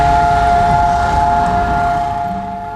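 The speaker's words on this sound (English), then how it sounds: "A siren wails at night in Jerusalem." A steady, sustained memorial siren tone holds at one pitch at night in Jerusalem, loud and constant, with faint low rumble beneath it.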